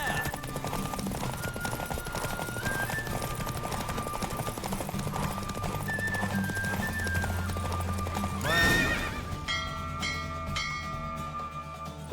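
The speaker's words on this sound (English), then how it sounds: "Don't spare the horse!" A horse gallops in the video game The Witcher 3, with fast, steady hoofbeats under a music bed, then a loud neigh near the end followed by ringing tones.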